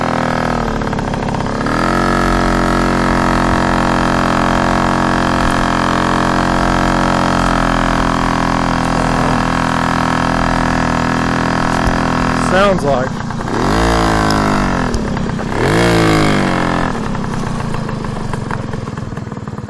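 Puch Pinto II moped engine idling steadily with a loud, buzzy drone, then revving up and down in a few swells near the end; a voice talks over it.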